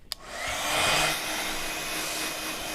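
A heat gun dries a handmade birthday card, giving a steady, fairly loud whooshing blower roar that starts after a brief click and runs unbroken to the end, with no talking.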